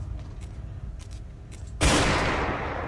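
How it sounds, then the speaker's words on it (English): A gunshot in the Granny horror video game: one sharp, loud blast cracks out after a stretch of quieter rumbling background, then its sound lingers and slowly fades. "I don't know why a gunshot didn't kill him"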